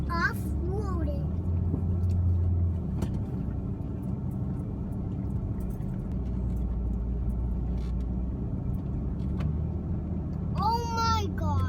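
A vehicle off-roads in first gear with the VTM lock engaged on a steep dirt trail. A steady low engine rumble runs throughout, while an adult and someone talk over it.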